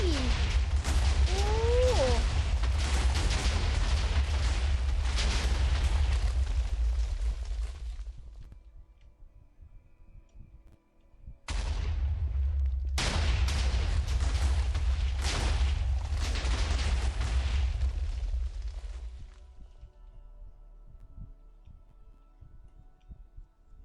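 A huge mass of explosives blows up in Minecraft as two long, dense rumbling roars of continuous detonations, each lasting several seconds before fading, separated by a brief drop.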